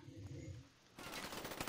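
Mac 11 submachine gun firing in Call of Duty Black Ops, a rapid, dense burst of automatic shots cutting in abruptly after a quieter moment, fairly faint overall.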